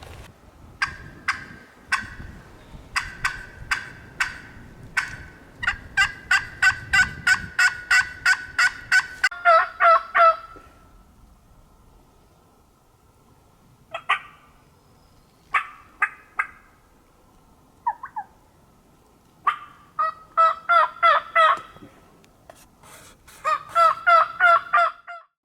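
Wild turkeys gobble on a West Virginia ridge in repeated rattling bursts, some loud and close, others fainter, separated by short pauses, with no talking.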